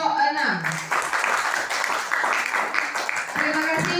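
A classroom full of students claps for a presenting group, a dense patter of applause with voices talking over it near the start and end.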